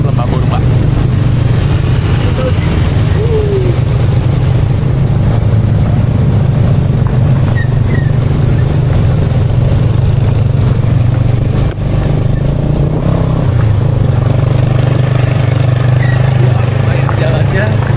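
A motorcycle engine drones steadily and close on a ride over rocky trail toward the Lembah Purba base camp in Sukabumi, holding a low even rumble with a brief dip near the middle.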